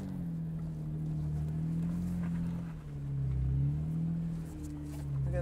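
A Jeep Wrangler JKU crawls over rocks off road without lockers engaged, its engine a low, steady drone that swells and eases with throttle, heard from close by with faint creaks and scrapes.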